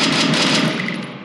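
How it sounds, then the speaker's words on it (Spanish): Rapid automatic gunfire in Free Fire, a loud dense burst of shots that runs continuously before tapering off slightly at the end, no talking. "Le he dado sin querer a disparar"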